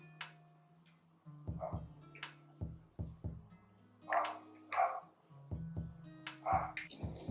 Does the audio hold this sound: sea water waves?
no